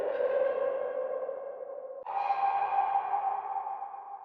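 Omnisphere's Air Chunk synth preset plays alone: a bright, sustained airy pad chord held for about two seconds, then re-struck at a slightly higher pitch and held to the end, steady and fairly loud.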